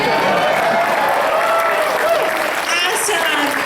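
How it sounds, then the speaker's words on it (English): Loud, sustained audience applause filling the space at a convention closing ceremony, with cheering voices mixed into the clapping throughout. "One more big round of applause for the amazing guests."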